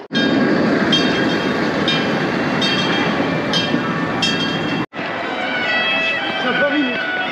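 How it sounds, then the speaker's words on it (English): A theme park ride train rumbles past nearby with a loud, steady roar and rhythmic wheel clatter, briefly cutting out, then resuming slightly quieter. "You have the train ride that goes underneath"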